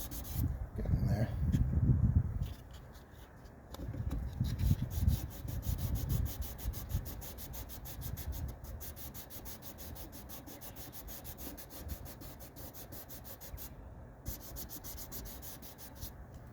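Grit paper sanding a scratched boat instrument gauge lens, rubbing in close, scratchy back-and-forth strokes that are louder early on and then settle into lighter, steady passes.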